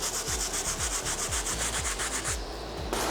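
A wire-tipped bristle brush scrubs a dirty sneaker dipped in cleaning solution, a steady run of rhythmic scraping strokes, close and loud, about two per second, ending with a short pause.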